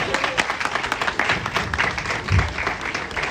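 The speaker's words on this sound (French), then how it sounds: "Non, on les applaudit en vrai." Applause from the audience at a French stand-up comedy show, a lively burst of many hands clapping with some rhythmic peaks and a low thump partway through, fairly loud and close, with no clear speech.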